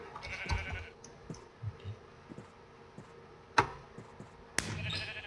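Sheep in the video game Sheep Quest bleat in short, scattered calls, a few close and sharp, set among clicks and thuds.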